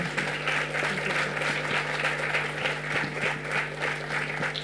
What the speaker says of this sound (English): And a huge round of applause to Dr. Arathi.